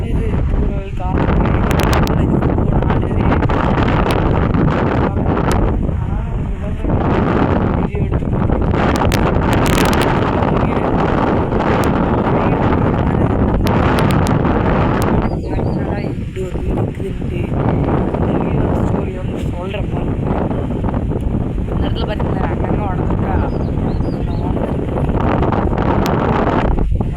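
Strong wind sweeping through a village in the windy season, roaring continuously and buffeting the microphone hard, with gusts swelling and easing and a voice talking intermittently beneath the noise.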